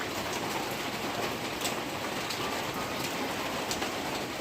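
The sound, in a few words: rain falling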